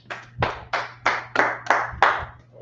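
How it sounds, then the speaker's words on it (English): A group claps hands together in unison, about seven sharp, evenly spaced claps at a steady rhythm, fairly close, over a faint low hum and with no talking. "Clap it up."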